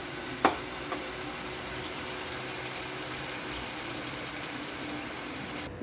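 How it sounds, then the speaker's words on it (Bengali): Vegetables with a little coconut frying in a pan, giving a steady, even sizzle throughout with a couple of brief clicks near the start and no one speaking. "সবজিটাকে ভেজে নিচ্ছি, একটু নারকেলও দিয়েছি।"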